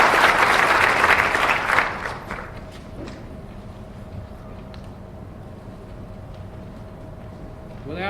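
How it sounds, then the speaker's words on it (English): Audience applause for participants at a debate series event, a burst of loud clapping that fades within about two seconds, leaving quiet room noise with a few thumps and a soft hum. "Round of applause for all these gentlemen"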